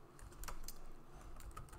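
Fast, irregular keystrokes on a computer keyboard, close but soft, running steadily for a couple of seconds with no voices.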